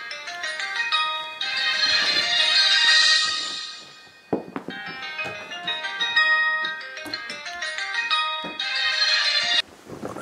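A phone rings with an incoming call, its bright electronic melody looping loudly and repeating several times, briefly broken near the middle and cut off at the end.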